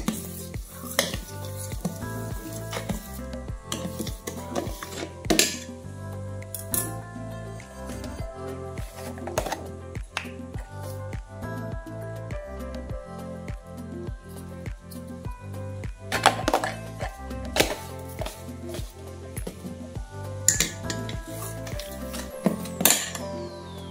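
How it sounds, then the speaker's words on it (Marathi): A ladle scrapes and clinks steadily against a pot as a mango pulp mixture is stirred continuously on a gas stove, with close, busy metallic knocks and soft squelching throughout and no talking. "गॅसवर ठेवला की पूर्ण वेळ त्या ढवळू करा, नाहीतर त्या टोपाक चिकटतला आणि करपतला."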